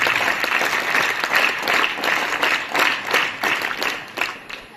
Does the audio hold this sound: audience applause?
yes